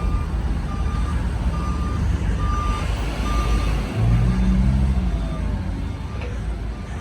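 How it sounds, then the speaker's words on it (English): A truck passes on a busy Brooklyn street in Kensington, with steady traffic rumble, a repeating reversing beep throughout, and a heavier engine swell toward the middle, fairly loud and close. "Make sure I don't get hit by this truck."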